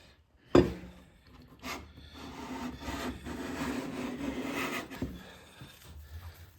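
A Wood River 5 1/2 jack plane cuts a thin shaving from a wood board, one sharp knock followed by a long, steady, close scraping stroke.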